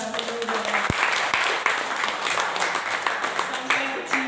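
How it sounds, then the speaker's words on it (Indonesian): An audience applauds for the youth at a church gathering, steady dense clapping throughout with a faint voice underneath. "tepuk tangan dong buat anak pemuda"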